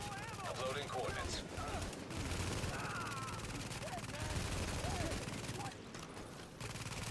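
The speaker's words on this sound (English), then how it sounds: "Small arms fire." Dense small arms gunfire rattles through a firefight in The Division, with bursts and rapid shots layered over a continuous roar of battle at steady loudness; a voice briefly speaks over it.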